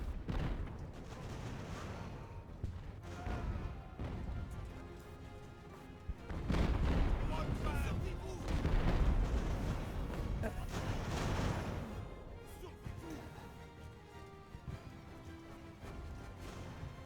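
Mortar and artillery fire in Ultimate Admiral: Age of Sail, a naval battle at the Siege of Toulon, as dense continuous rumbling booms and crackling volleys, heaviest in the middle and thinning toward the end, with no talk.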